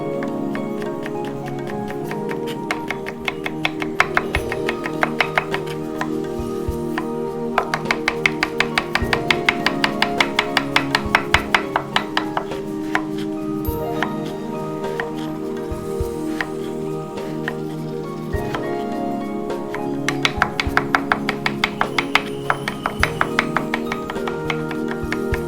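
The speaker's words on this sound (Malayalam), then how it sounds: "ഇനി നമ്മളിതിപ്പോൾ അരിയാൻ പോവുകയാണ്." A knife chops ash gourd for Onam sadya olan in repeated bursts of quick rhythmic taps on a cutting board, close and clear, with short pauses between runs.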